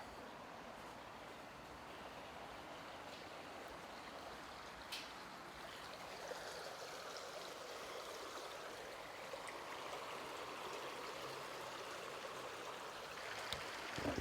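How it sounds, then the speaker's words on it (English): Steady rushing of water flowing past at a museum display, continuous and even throughout, with no voices. "they have this where you can look at the water going by"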